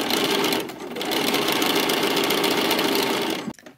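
A sewing machine zigzag stitches a boxer seam, its rapid steady whirring near and loud, briefly dipping once before resuming and stopping abruptly at the end.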